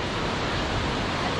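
Waterfall in Sequoia National Park, a steady, loud broadband rush of falling water filling the whole moment without pause, close by and with no voices.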